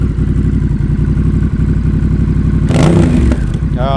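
A Honda Rebel 1100 motorcycle fitted with a Coffman's Shorty exhaust idles loudly with a steady, lumpy pulse, then surges into a short throttle burst that swells and drops back to idle, close up.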